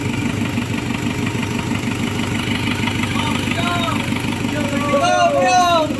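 Isuzu Trooper 4JX1 diesel engine idling steadily after a rail pressure control valve repair, a continuous low rumble with voices talking over it near the end.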